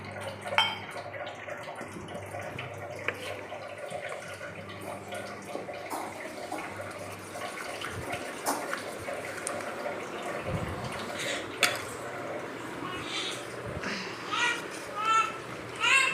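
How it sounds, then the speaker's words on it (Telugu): Water is poured into ragi flour and stirred to a smooth mix for fermented ragi java, with soft sloshing, dripping and clinks of a utensil against a pot beneath ongoing talk. "వాటర్ పోసి బాగా మిక్స్ చేసుకోవాలి"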